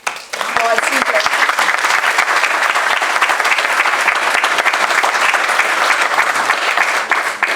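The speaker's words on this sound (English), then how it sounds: "So we'll applaud CJ." An audience breaks into loud, sustained applause at an art school commencement ceremony, dense clapping filling the hall evenly after a brief opening voice.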